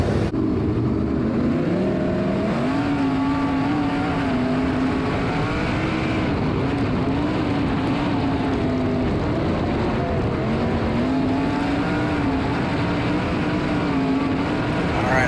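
A race car engine droning steadily on track, its pitch rising and falling through gear changes and throttle shifts, loud and continuous with wind rush in the cockpit.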